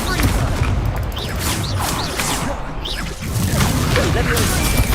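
An Incendio fire spell cast in Hogwarts Legacy amid a busy combat soundscape, with dense crackling blasts and impacts layered under a steady loud roar, a voice speaking over it.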